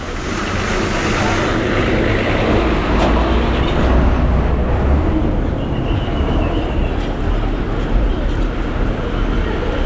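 A loud, continuous rumble of trains at Sangameshwar railway station in India, with a distant horn-like tone and broadband mechanical noise throughout.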